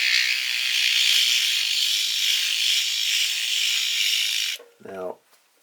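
A rotary tool fitted with a diamond burr drills into agate rock, giving a steady, close grinding whine that runs unbroken for several seconds. It then cuts off abruptly, and a short voice follows.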